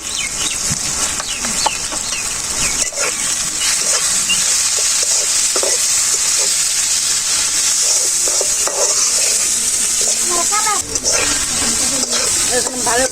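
Ground spices with salt, turmeric and chili powder frying in a pan for a village-style chicken curry, a steady loud sizzle broken by scraping stirs, with a voice speaking at times and clucking birds in the background.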